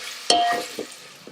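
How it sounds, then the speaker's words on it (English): Diced bacon sizzles in melted butter inside an Instant Pot, a close crackling hiss broken by a sharp scrape of a spoon and a few softer stirring strokes, with no talk. "And now we're going to add our diced bacon. And we're just going to cook that till it's nice and brown."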